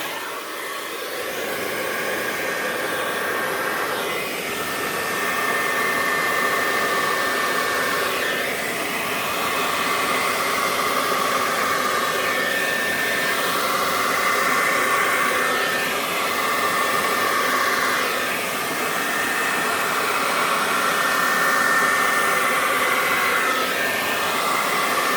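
A new handheld blow-dryer runs steadily for the whole stretch, a loud continuous whooshing whine with slight wavering in airflow and no voices over it.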